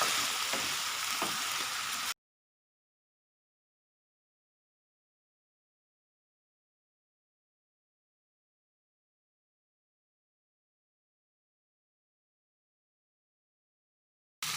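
Garlic frying in a pan for the Filipino dish Bicol Express gives a steady, close hiss of sizzling oil that lasts about two seconds before cutting to silence.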